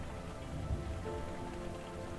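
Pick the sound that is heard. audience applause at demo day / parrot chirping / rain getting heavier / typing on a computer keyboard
rain getting heavier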